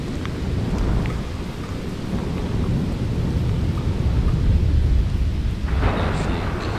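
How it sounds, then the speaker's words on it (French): Thunder from an early-morning storm in Sidi Bel Abbès, Algeria, rumbles low and heavy through the whole stretch, layered over steady rain, with a brief brighter crackle near the end. "J'adore le son du tonnerre."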